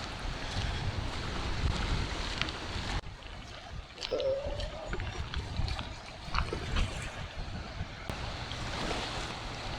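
Ocean waves wash and surge steadily around a boat at sea, mixed with wind noise buffeting the microphone and a few faint knocks and creaks.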